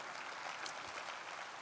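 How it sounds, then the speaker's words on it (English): A faint, steady patter of audience clapping that stays even and continuous throughout, without cheers or voices over it. "we can keep clapping"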